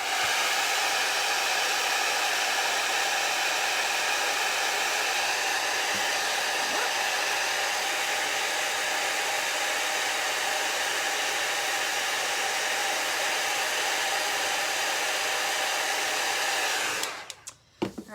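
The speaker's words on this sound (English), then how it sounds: "I'm using my vintage heat tool because my Stampin' Up! Heat tools are set aside for class." Vintage heat tool blowing hot air to melt white embossing powder on a stamped card: a loud, constant fan whir with a steady tone that runs without pause, then cuts off abruptly near the end.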